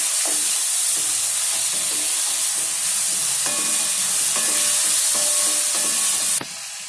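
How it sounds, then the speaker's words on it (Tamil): Tomato, onion, green chili, ginger and cumin sautéing in a pan, a steady close sizzle with brief scraping stir strokes and faint clinks, no voices. "தக்காளி, வெங்காயம், பச்சை மிளகாய், தக்காளி, இஞ்சி, ஜீரகம் போட்டு நல்லா வதக்கணும்."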